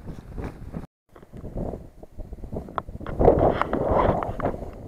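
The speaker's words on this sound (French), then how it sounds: "il y a trop de vent et je préfère être à l'abri du vent" Gusty wind buffeting the microphone at a winter bivouac in the Jabron valley, France, rough and broadband, rising louder in the second half with a brief quiet gap near the start.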